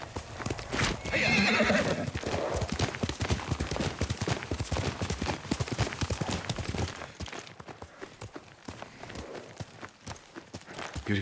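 Horse walking with steady clip-clopping hooves and a clear neigh early on, close and fairly quiet, the hoofbeats continuing rhythmically before thinning out toward the end.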